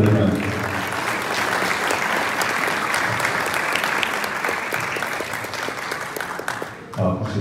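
Applause from guests at a civil wedding ceremony in Kocaeli, a dense steady clapping that fills the space for several seconds and then breaks off near the end.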